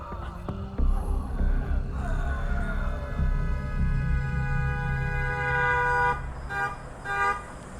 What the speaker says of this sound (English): The blaring sound of a car horn was what snapped Mark out of his vision.